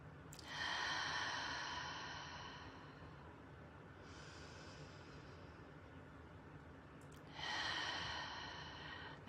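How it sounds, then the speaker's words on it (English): Slow, deep breaths at a calm pace, soft and close: a long airy inhale, a quieter stretch as it eases out, then another inhale, with no talking. "Now just take a couple of deep breaths here."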